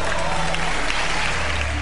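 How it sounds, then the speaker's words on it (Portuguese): A church congregation applauds during a service, a short, steady wash of clapping over a constant low hum. "O público aplaude."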